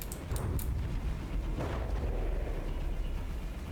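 Missile explosions from Sidewinders hitting a vehicle in the game From the Depths, a few sharp cracks at the start followed by a heavy rumbling boom that rolls on and fades slowly.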